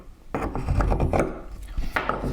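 A marking knife scoring deeply into a piece of wood, heard as two close, gritty scraping cuts with a short pause between.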